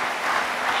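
A church congregation applauding together, a dense continuous wash of clapping from many hands, full and steady for a short moment.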